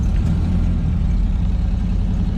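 An old L28 engine in a Devil Z car runs steadily, a continuous low rumble close by with no talking over it.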